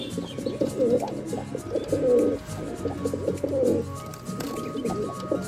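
Several domestic pigeons kept for sale cooing in repeated low, throaty rolling phrases, close by and fairly loud, with slight overlapping calls and faint background noise.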